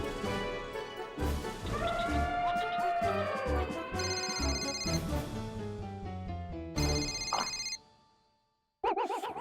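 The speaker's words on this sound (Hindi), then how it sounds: "सोडी का फोन?" A telephone ringtone plays amid a comedic household scene, a melodic electronic ring repeating in bursts with a brief silent gap near the end before it resumes.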